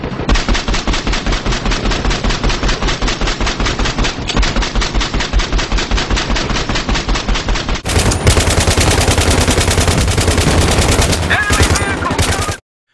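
Sustained light machine gun fire from a bipod-mounted LMG in Battlefield 3, a loud, rapid, unbroken stream of shots with a brief change partway through and a few seconds of more intense bursts before stopping abruptly.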